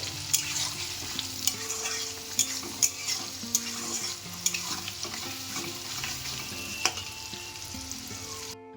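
Meat is stir-fried in an old iron kadai, with a constant sizzle and frequent metallic scrapes and knocks of a spatula, over faint background music.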